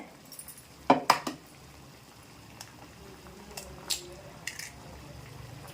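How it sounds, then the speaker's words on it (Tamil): Near a quiet simmering pot of curry, a few sharp clinks and taps of eggshells cracking against a pan edge, then soft drips as the eggs pour in. "ஒரு முட்டையை உடச்சி ஊற்றி விடுவோம்"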